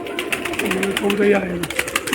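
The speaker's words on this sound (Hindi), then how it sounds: "ये माशाल्लाह सब परदार कबूतर हैं।" Fancy feathered pigeons coo softly up close, low rolling calls while someone talks over them and there is some handling noise.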